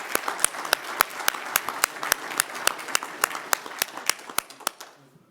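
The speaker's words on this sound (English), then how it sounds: "Let's give a nice round of applause again for Detective Jacobs for his diligent efforts" Audience applause at a fall conference honouring a detective, with regular sharp claps over a dense crowd clatter, steady for about five seconds before fading out.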